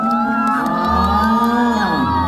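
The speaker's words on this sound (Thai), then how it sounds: "ขอเสียงปรบมือกันอีกหนึ่งรอบ" Fans at a Phuwin fan event scream and cheer loudly and continuously. Overlapping high-pitched shrieks and whoops swoop up and down in pitch, close and intense throughout.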